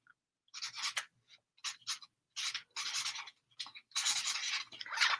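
A pen scratching across paper as an author writes a note in a book at a signing, close and quiet, coming in short bursts of strokes separated by brief pauses.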